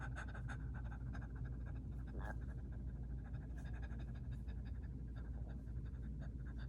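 Rapid rhythmic panting breaths from a breathing exercise run steadily and close by throughout, a continuous quick huffing without any speech.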